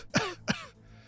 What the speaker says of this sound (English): this guy dressed as a bum who had the poor job of coughing while talking to me